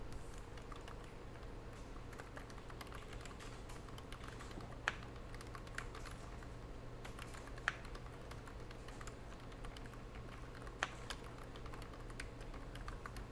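Faint keystrokes on a computer keyboard, sparse and irregular with a few sharper taps, under a steady low hum in a quiet room.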